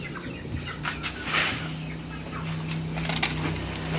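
Chickens in a coop clucking and squawking as the flock is let out, a dense continuous jumble of bird calls with a steady low hum underneath.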